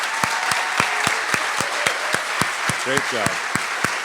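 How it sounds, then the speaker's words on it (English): An audience applauds the 2024 Professional Workforce Scholarship recipients at an awards presentation. Close, sharp individual claps stand out in a quick regular beat over the broader clapping, and a brief voice speaks in between. "How about a round of applause?"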